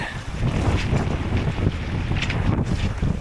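A small, inexpensive sailboat with its keel down and jib set moves through open water, heard as steady rushing wind buffeting the microphone over a constant wash of water along the hull.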